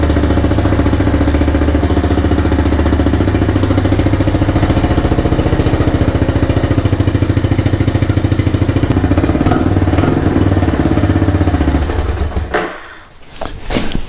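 A restomod motorcycle engine idles steadily up close, loud and even with a fast mechanical chatter, then cuts off abruptly near the end, leaving a brief dip before a faint residual rumble.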